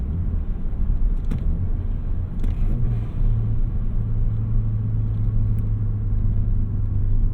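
A 2018 Ford Focus ST at stock power accelerates on the road, heard from inside the cabin as a loud, steady low engine drone and road rumble, with the engine tone swelling slightly partway through.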